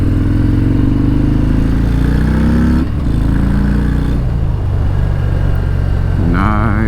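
A 2019 Harley-Davidson FXDR 114 on the move, its V-twin engine droning loudly and continuously with pitch shifts as it accelerates and changes gear, wind rushing over it, recorded close from the rider's position.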